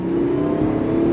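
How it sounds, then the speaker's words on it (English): A 1993 Toyota Supra Mk4 Turbo engine revs under light throttle, giving a steady buzzing drone that climbs a little and stays close and prominent with no talk over it. "getting on throttle a little bit"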